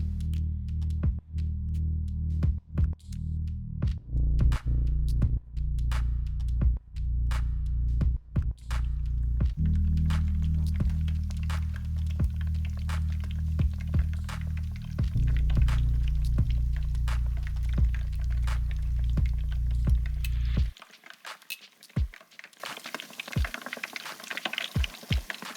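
Battered food frying in hot oil, a dense crackling sizzle with low bubbling hum and sharp pops scattered throughout, easing to lighter spatter near the end.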